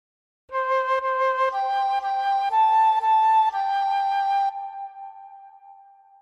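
Fife playing the opening phrase of Twinkle Twinkle Little Star, a sequence of clear, steady whistling notes stepping through the melody, with the last note held and slowly fading, solo and close.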